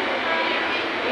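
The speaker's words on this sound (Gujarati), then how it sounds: "ટ્રેન આવે છે દાદરની" A train pulling into Dadar station in Mumbai, a steady broadband rumble and rush of the moving carriages, loud and continuous without pauses.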